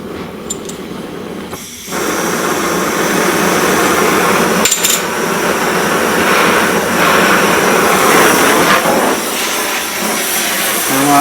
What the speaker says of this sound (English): I've got the welding torch which I'm now going to fire up